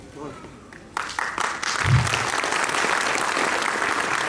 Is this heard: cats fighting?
no